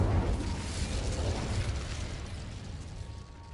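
The Incendio fire spell in Hogwarts Legacy erupts as a loud, roaring whoosh of flame with a heavy low rumble that slowly fades.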